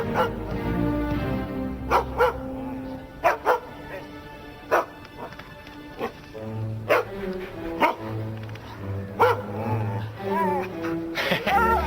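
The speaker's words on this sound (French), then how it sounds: "Allez, viens, Aloy. Viens, mon chien." Several sharp dog barks from a cartoon episode, close and loud, scattered irregularly over a steady background of music, with a few softer yips between them.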